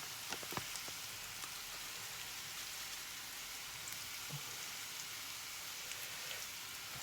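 Steady crackling sizzle of rice with shrimp and vegetables frying in a pan, continuous and fairly quiet, with a few soft clinks near the start.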